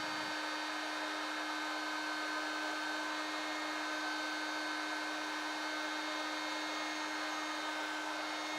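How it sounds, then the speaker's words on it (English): A heat gun runs continuously while heating a sneaker sole for bonding, giving a steady, even airy whir with a constant motor hum and no change in level throughout. "Heat a small section for about 5 seconds, and then press the section together for around 5 to 10 seconds."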